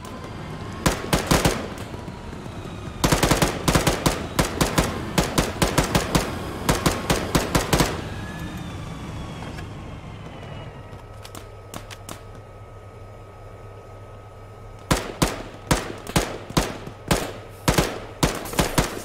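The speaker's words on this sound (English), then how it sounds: "shots. East. Southeast." Arma 3 gunfire: long bursts of rapid machine-gun shots, loud and sharp, pause for a few seconds, then return in uneven volleys, with a low engine-like drone in the quieter middle stretch.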